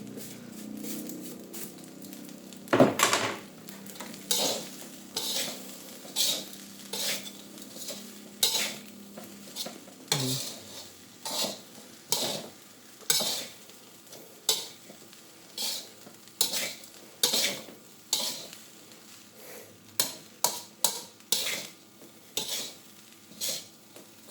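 Nasi goreng stir-fried in a pan with tomatoes and spring onions, a spatula scraping and clanking in a steady rhythm of sharp strokes over a soft sizzle, up close and alone.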